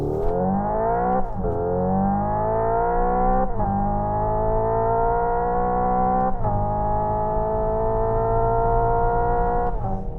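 A 2025 Hyundai IONIQ 5 N electric car accelerating hard with its simulated E-Shift gear changes, a loud synthetic engine-like tone rising in pitch and then dropping abruptly at each of four shifts, heard from inside without talking.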